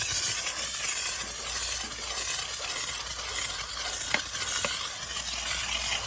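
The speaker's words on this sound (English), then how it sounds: "Making sure that I keep my steamer moving the whole time." A steam cleaner works over stained seats in a 2021 Toyota Corolla, giving a continuous close hiss with faint sputtering crackles and a couple of small clicks, steady throughout without speech.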